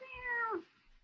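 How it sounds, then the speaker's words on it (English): A single clear cat meow, close and fairly quiet, rising and then falling over about half a second, isolated with no talk. "Oh, that's a cat."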